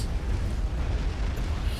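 A huge nuclear blast in the real-time strategy game Supreme Commander: Forged Alliance, a sustained heavy low rumble of explosion that fills the whole stretch, loud and dense, with no voices over it.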